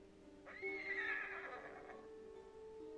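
A horse in the video game Ghost of Tsushima lets out a single clear whinny lasting over a second, rising then trailing off, over a low steady game-ambience hum.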